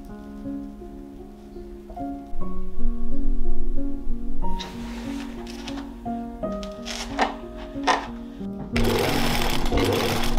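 A sewing machine stitches tulle onto a dress bodice shaped with ice-crack patterns, running in bursts of rapid mechanical whirring with brief pauses between runs, close and fairly loud, ending in a steady faster stretch.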